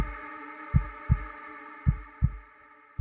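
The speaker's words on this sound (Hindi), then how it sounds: "उसका दिल जोर जोर से धड़कने लगा।" A heartbeat effect for a Hindi horror story, with five deep, thumping beats in an uneven rhythm over a sustained eerie tonal drone.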